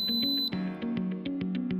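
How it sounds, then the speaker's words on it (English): Beeps from a NuWave PIC Flex Pro induction cooktop: a high electronic tone that cuts off, then a run of short, evenly spaced pulses over a low steady hum, close and clear with no voices. "press and hold the Start Pause button until 2 beeps are heard"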